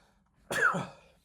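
A single sharp, explosive burst of breath, a sneeze or cough-like expulsion, close and loud, fading out within about half a second.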